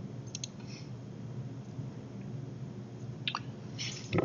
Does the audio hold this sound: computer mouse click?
yes